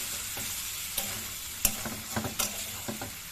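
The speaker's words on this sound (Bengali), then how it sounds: "এবার এগুলোকে ভাজা ভাজা করে নেব।" Red amaranth greens fry in a pan with a soft, continuous sizzle close by, broken by several sharper scrapes and clacks as a spatula stirs them.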